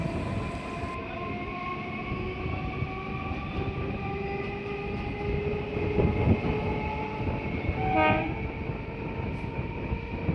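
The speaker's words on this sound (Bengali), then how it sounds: "এবার আমার ট্রেন বেরিয়ে যাচ্ছে যাদবপুর স্টেশন থেকে" A local commuter train pulling out of Jadavpur station in Kolkata, heard from on board: a steady rumble of wheels on rails with a tonal horn or motor whine, a loud clatter burst around the middle, no talking.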